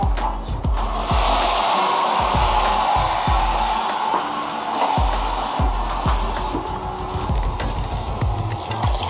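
Water poured into a hot pan of frying rice, giving a loud, steady hiss and sizzle with irregular crackles and clinks throughout.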